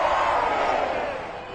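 Home crowd in a Madden 22 American football game, Falcons vs Panthers playoff, a loud steady stadium roar and cheer that fades slightly toward the end.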